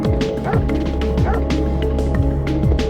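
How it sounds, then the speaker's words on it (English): Dogs in the video game Parasite Eve bark and yip repeatedly in quick, overlapping bursts with some whimpering, loud and close over a steady background hum. "Oh, doggos! I love to just watch them."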